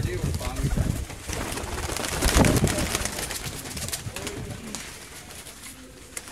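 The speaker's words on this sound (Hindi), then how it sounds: "बहुत ही शानदार कबूतर है नाजरीन," High-flying pigeons coo steadily during an outdoor pigeon-flying event, a soft throaty burbling over a busy background of ambient noise and faint voices.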